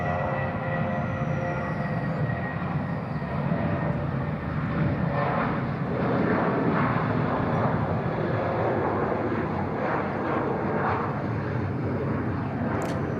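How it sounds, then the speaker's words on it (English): Aircraft engines roar steadily at Bangkok Suvarnabhumi Airport on a calm day with no wind, a continuous loud jet rumble with a faint higher whine. "Enjoy all the beautiful sounds of the different types of aircraft that we have here"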